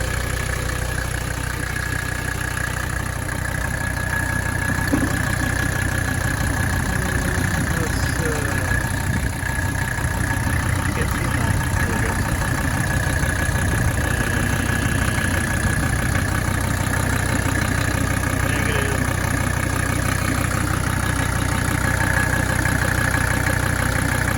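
A Mercedes 300D diesel engine idles steadily with its alternator turning, a constant mechanical drone with a faint whine running the whole time, while someone talks over it.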